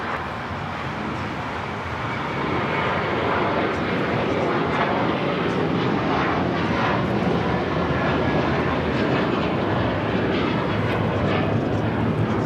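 A heavy jet airliner rolls for takeoff on runway 25 right at Los Angeles International Airport, a loud, steady broadband engine roar building slightly and sustained throughout, heard from a distance outdoors.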